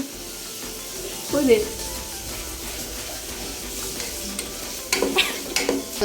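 Vegetable stew is stirred in a pan, giving a moderate sizzle with scraping spoon strokes and a few louder clatters toward the end, while people talk nearby.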